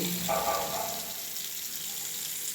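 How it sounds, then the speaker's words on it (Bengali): Water runs steadily from a tap in a newly built bathroom fed from a tank line, a continuous close hiss with a brief stronger gush near the start. "ভালোই জলের স্পিড আছে জলটা গরমও না ঠান্ডা"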